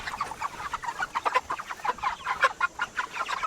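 Homestead chickens cluck in a lively, overlapping series of short calls, fairly close, with no talking over them.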